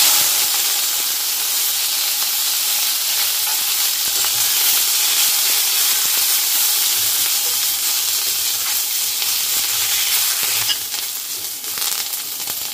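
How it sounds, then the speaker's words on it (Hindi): Neem leaves sizzle in hot oil, a loud, dense hiss that holds steady and close before dropping slightly near the end. "तेल गरम हो गया है, डायरेक्ट ही नीम पत्ता डाल रही हूँ।"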